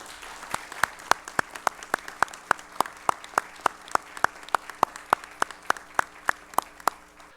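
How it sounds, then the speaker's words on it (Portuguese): A sparse group of people in a session of the São Paulo audit court claps for new council officers, distinct sharp hand claps in a loose, uneven rhythm with few participants, close and fairly crisp against a quiet room. "a quem eu peço uma salva de palmas de todos"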